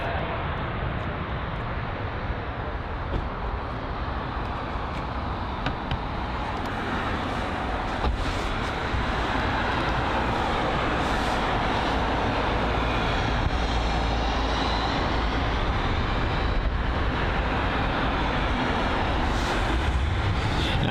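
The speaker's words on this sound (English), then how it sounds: "There is the Qatar Boeing 777 on departure." Qatar Airways Boeing 777 departing London Heathrow, a steady broad roar of jet engines, loud and continuous throughout, with slight variation in intensity and no clear speech.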